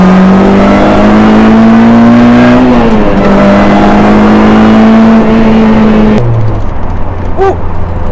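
A supercharged car accelerates hard at full throttle, its loud, close engine whine climbing through a quick shift before dropping sharply to a lower note after about six seconds.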